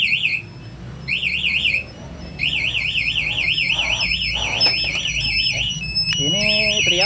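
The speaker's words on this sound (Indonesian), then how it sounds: "otomatis alarm yang di motor ataupun yang di remote dia akan teriak ya" Anti-theft alarm on a 2022 Honda CBR150 with smart key, wailing in a rapid warbling siren loop, loud and close, with a brief pause and chirps near the end.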